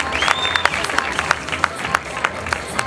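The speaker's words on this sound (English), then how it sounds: "Let's give these 2 beauties an applause." Guests at a quinceañera dress showcase applaud two models, scattered sharp claps with some cheering and crowd chatter, fairly close and lively.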